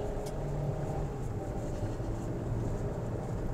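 A 2022 Kia Stonic with a three-cylinder engine pulling uphill at full throttle, a steady loud engine drone with road and wind rumble heard from inside the cabin.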